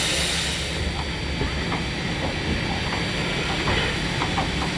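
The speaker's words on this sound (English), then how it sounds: "3025 reverses back the final few feet and couples onto the train" Steam locomotive 3025 on the historic Valley Railroad backs up slowly and couples onto its train, a continuous hiss and low rumble with faint clanks over the steady noise.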